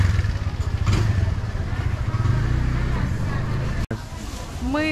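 Motorcycles pass along a busy Bangkok street, a steady buzzing engine drone with clattering traffic noise and faint background chatter, ending with one bike's rising whine nearby.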